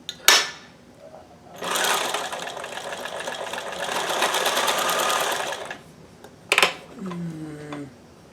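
A sewing machine stitches fabric in a steady mechanical whir lasting several seconds, bracketed by short clicks and handling noises before and after, with a brief voice near the end.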